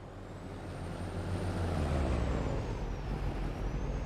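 A truck's air brakes in Farming Simulator 22 let out a loud, steady hiss that swells and holds for a few seconds over a low engine rumble.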